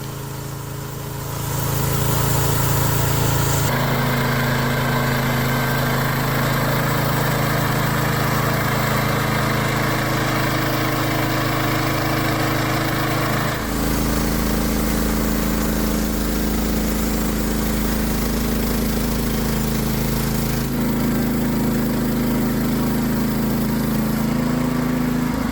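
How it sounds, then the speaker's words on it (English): A homestead sawmill runs loud and steady through the whole stretch, its engine droning with a heavy low hum that shifts pitch partway through as the cut progresses, with no talking over it. "I'd get him cutting on the sawmill"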